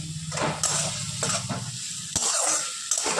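Tomato and chili sizzle loudly as they fry in a pan while being stirred, with a steady hiss broken by several scraping stirs of the spoon.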